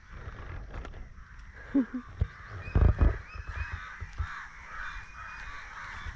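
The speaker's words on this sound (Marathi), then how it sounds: "कावळे अड्डतच सामके" Crows caw a few times at a moderate distance over steady early-morning outdoor background noise among coconut palms, with a louder burst of calls near the middle.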